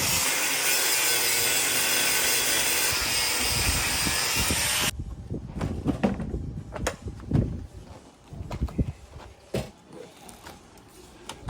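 A power tool cuts off seized fasteners on a Land Rover Defender with a harsh, loud grinding for about five seconds, then stops and leaves irregular clanks, scrapes and rattles of hand work close by.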